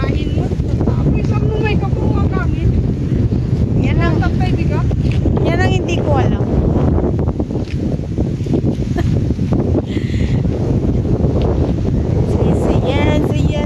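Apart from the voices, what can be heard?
strong wind by the sea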